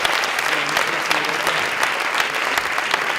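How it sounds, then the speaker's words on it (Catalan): A live audience at a stage show breaks into thick, continuous applause, many hands clapping together at an even level with occasional sharper claps standing out, faint voices underneath. "si li donem un aplaudiment així"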